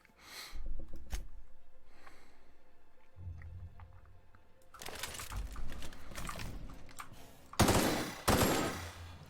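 Weapon fire in The Outer Worlds, a few sharp bursts of shots separated by quieter stretches, loud and close, with a heavy burst near the end.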